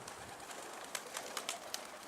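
Faint wingbeats and soft fluttering sounds from an escaped pigeon are heard at a distance, coming in short bursts and with no other sounds around them.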